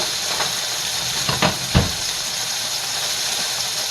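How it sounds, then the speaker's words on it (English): Steady hissing sizzle of chicken frying in a hot pan, with a couple of brief louder crackles near the start and no talking. "We want to hear this sizzle."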